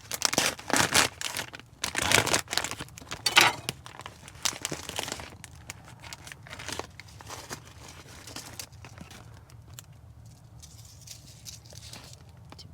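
A knife cuts open and skins a rattlesnake at a desert campsite in the heat, producing close crinkling, tearing and scraping bursts that grow busy early and then taper to quieter, sparse handling.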